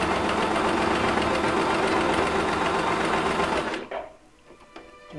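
Simple child's sewing machine stitching thick fabric, a loud, fast mechanical whir that runs steadily for about four seconds before stopping abruptly, followed by faint handling clicks.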